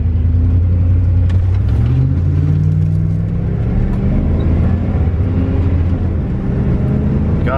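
A 4.8-litre single-turbo car launches hard and accelerates, its engine a loud continuous roar rising in pitch through the gears, close and dominant with no voices.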